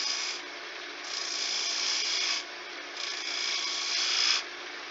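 A woodturning lathe tool rounding the edges of a spinning wooden coaster makes a continuous bright scraping rasp that swells and eases in several passes, close and fairly loud with no talk.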